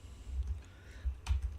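Keyboard shortcut keys are pressed on a computer keyboard, a few soft, close clicks in quick succession with a brief louder tap near the end.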